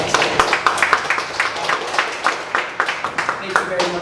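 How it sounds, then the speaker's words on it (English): Audience applause after a Toastmasters speech, a room of listeners clapping in dense, steady bursts, moderately loud and close, with a voice talking over part of it. "we'd like to all give you a round of applause for sharing such a"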